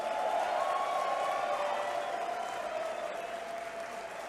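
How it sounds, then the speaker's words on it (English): Sustained audience applause with some crowd noise fills an MMA event arena after three rounds, steady and fairly distant, tapering slightly toward the end with no one speaking. "let's give both fighters a big round of applause"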